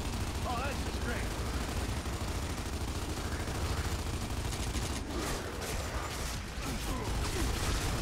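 Gunfire in Gears of War 2, fairly quiet overall, with a steady clatter of shots and mechanical noise throughout and voices talking over the fighting.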